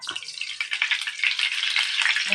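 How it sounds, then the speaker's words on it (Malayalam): Tapioca cutlets dropped into hot oil, a loud, steady, bright sizzle that swells and holds close up, with no voices. "എണ്ണ ചൂടായി അതിനകത്ത് നമ്മൾ കട്ട്ലേറ്റ് ഇടുകയാണ്."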